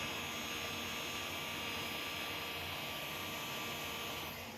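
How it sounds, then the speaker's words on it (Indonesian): Small electric fan blowing to cool a temperature sensor on a monitoring setup, a steady close whooshing hum that stays even and continuous, with no talk. "Kita akan coba kipas ya, supaya suhunya turun."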